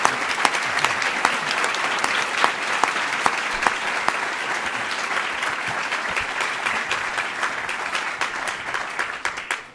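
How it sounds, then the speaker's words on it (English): An audience at a Utah Republican gubernatorial debate at Little America gives a big round of applause for Governor Gary Herbert and Jonathan Johnson, sustained crisp clapping from many hands that fades out at the end. "I'd like everybody to give, again, Governor Gary Herbert and Jonathan Johnson a big round of applause for being here"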